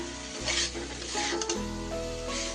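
Broccoli is stirred in a hot pan with a spoon scraping the metal, over a steady sizzle of frying. The sound is close and continuous, with no voices.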